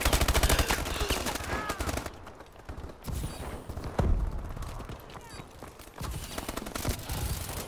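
Rapid gunfire bursts from a Call of Duty Advanced Warfare Hardpoint match, loud and dense through the first two seconds, then scattered shots and brief pauses, with busy game ambience throughout.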